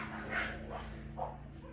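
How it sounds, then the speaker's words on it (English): Dogs bark softly in the distance, with a couple of faint, separate barks over a low steady hum in a garage where a Hobart Handler 120 welder is being set up. "Dogs."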